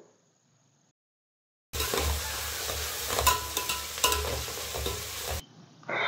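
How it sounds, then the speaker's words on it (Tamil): Onions with mint and coriander leaves sautéing and being stirred in a pan for fish biryani, a steady close sizzle with scraping spoon strokes that starts abruptly after quiet and continues for several seconds. "இப்போ வெங்காயம் நல்லா வதங்கிருச்சு."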